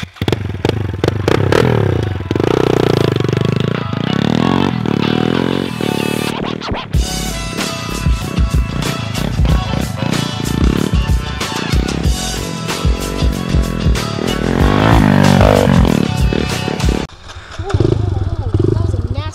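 A 110cc pit bike carries two riders along a wooded trail in the Smoky Mountains, its small engine buzzing and revving steadily near the mic amid scrapes and clatter, with voices heard over it.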